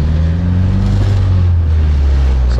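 A boosted LSVTEC Honda Ferio engine revs up close, a loud, steady low droning rumble with a rising pitched tone, lasting under three seconds with no voices.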